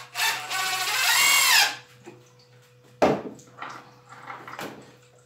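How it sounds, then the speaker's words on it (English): An impact driver sinks a 3-inch deck mate screw in one loud, steady burst of motor whine and hammering lasting about a second and a half. Quieter clunks and handling knocks follow it. "deck mate screws I'm driving now"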